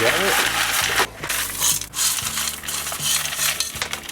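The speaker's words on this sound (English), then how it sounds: "we'll continue putting scoria around the side of the pot" Scoria gravel is poured and scattered around the side of a hot chili pepper plant's pot, producing gritty rattling and clinking of small stones in short bursts with pauses, close and fairly loud.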